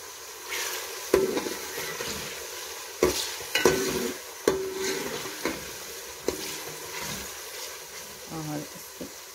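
Cauliflower frying in a pan, a steady sizzle under irregular scrapes and knocks of a spoon against the metal, close by, with a voice speaking now and then.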